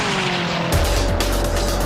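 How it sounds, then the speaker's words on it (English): A Shelby SSC Ultimate Aero turbocharged supercar speeding along a lonely highway during a 2007 top-speed run, a loud continuous engine roar that deepens and swells partway through as the car surges past. "the Aero prepares to prove it's the fastest production car in the world"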